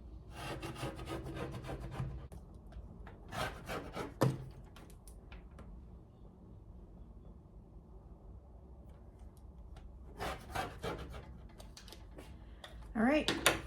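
Scissors or a rotary cutter slicing fleece fabric into 1-inch strips, soft rasping cuts in short bursts separated by quieter handling, with a person talking between cuts.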